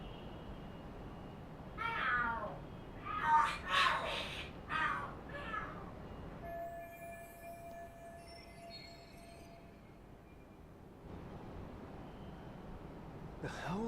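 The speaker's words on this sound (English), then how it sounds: "Are there cats fighting?" Cats fight and screech in the street crime game Lost Judgment, a few sharp, wavering yowls and screams at moderate volume over a low background hum, followed by quieter ambient tones.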